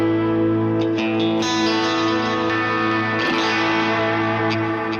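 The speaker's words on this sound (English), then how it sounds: "The clean tone with the extra reverb and stuff sounds like this." An electric lead guitar played through a Helix clean-tone patch with extra reverb rings out in sustained, layered notes and chords, washed in echo and shimmer. It is loud and continuous, with no voices.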